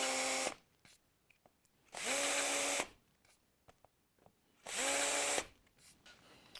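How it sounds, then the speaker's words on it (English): Power drill countersinking a hole for a threaded stainless steel neck insert on a Telecaster guitar build, three loud sustained whirring bursts of about a second each separated by quiet gaps with small handling clicks. "So what I'm going to do first is countersink it just a little bit, not much."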